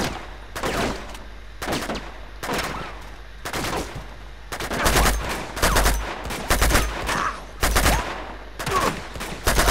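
Pistol gunfire in the video game Uncharted 2 Remastered, a string of sharp shots in irregular bursts, some clustered rapidly, loud and close over ambient game noise.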